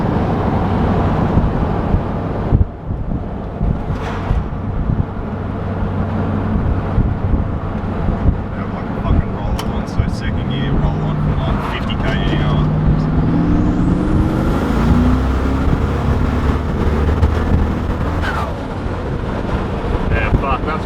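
A twin turbo V8 Landcruiser under hard acceleration: a steady engine drone with a high whistle rising as the turbos spool, buffeted by heavy wind noise while people talk inside.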